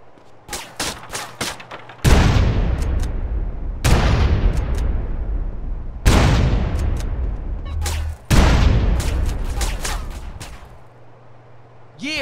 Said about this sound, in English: that's a gun.